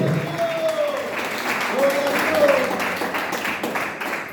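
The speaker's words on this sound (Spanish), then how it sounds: "Apláudase, le va a aplaudir en esta noche." Church congregation applauding during an evening service, a steady wash of clapping with voices calling out over it and a swell partway through.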